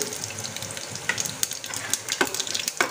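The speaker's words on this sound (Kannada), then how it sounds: "ಈಗ ಸಾಸಿವೆ ಹಾಕೊಳಕತ್ತೀನಿ" Mustard seeds dropped into hot oil crackle and sizzle in a steady hiss, with sharp pops scattered throughout, close and fairly loud in a home kitchen while breakfast is being cooked.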